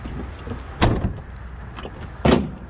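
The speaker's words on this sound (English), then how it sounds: "This door always been sticking like that since I got it." Stiff door on a 1991 first-generation pickup truck being worked open or shut, giving two heavy clunks about a second and a half apart over a low background rumble.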